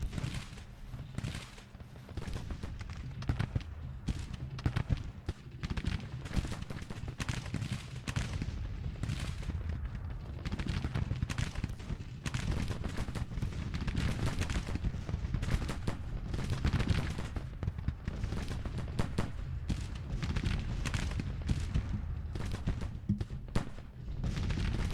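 Dense, continuous musket volleys from skirmishers in a Civil War strategy video game, with crackling rifle fire and deeper booms rolling steadily and loudly throughout, no voices over it.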